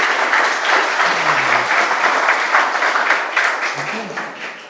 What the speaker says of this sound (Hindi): उनके लिए एक बार जोरदार ताली से स्वागत